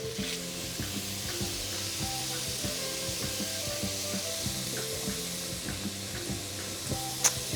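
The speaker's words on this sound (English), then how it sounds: "Go in with the peppers" Peppers sizzle steadily in a hot pan for sugo finto, a close, continuous frying hiss with small crackles and no one talking.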